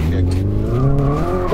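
A Hyundai Ioniq 5 N drifting with its tires squealing in long sustained tonal streaks that bend in pitch and rise sharply at the end, loud and close, with road noise beneath.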